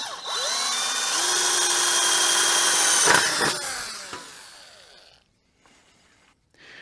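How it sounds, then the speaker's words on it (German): A power drill whines steadily as it bores through corrugated sheet metal, rising in pitch and then winding down and stopping, with a few sharp metallic knocks near the end. "Und dann können wir natürlich viel besser bohren."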